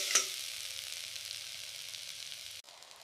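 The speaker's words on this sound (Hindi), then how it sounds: "अब अदरक लहसुन का पेस्ट और हरी मिर्च डालकर खुशबू आने तक पकाओ।" Chopped onions frying with ginger-garlic paste and green chilies make a soft, even sizzle after a small click at the start, continuing quietly until the sound cuts off abruptly near the end.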